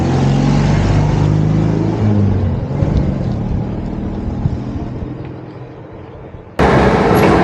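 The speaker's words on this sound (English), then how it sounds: "So it is actually a Bond car I'm driving today." A Citroën 2CV drives along with a steady engine drone and road rumble that eases off mid-pass, then a loud burst of engine noise cuts in near the end.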